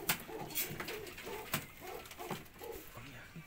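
Pigeons coo softly and repeatedly, low rolling calls recurring about every half second, with faint background noise and occasional clicks nearby.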